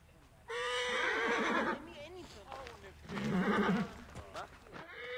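A horse neighs loudly twice in the video game Assassin's Creed: Origins, long shrill whinnies with a shaky, wavering pitch, separated by a short gap; faint background sounds continue around them.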